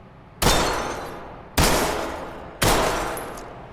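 Three sharp Glock 19 pistol shots in the video game Ready or Not, fired at targets on a range, evenly spaced about a second apart, each loud with a reverberant tail that fades before the next.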